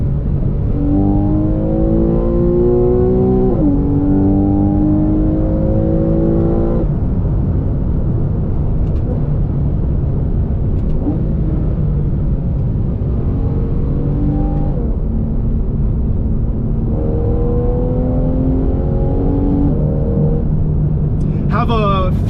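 Porsche 911 Carrera 991.1 engine pulling hard through the PDK dual-clutch gearbox, rising revs cut by quick shifts, loud and close from the cabin with steady road roar and a person talking over it.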